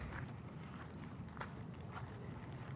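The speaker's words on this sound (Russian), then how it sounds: "Давайте дальше прогуляюсь немножко." Faint footsteps walk at an even pace around a Florida residential complex flooded by Hurricane Milton, soft regular treads over a steady wash of outdoor noise.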